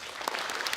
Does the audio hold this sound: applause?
yes